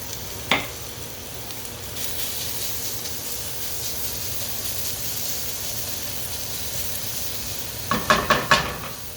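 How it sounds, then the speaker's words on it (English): Steady, close sizzling of garlic frying in olive oil, with a soft hiss throughout and a few sharp clinks of a utensil. "If you look closely, you'll notice it's sizzling"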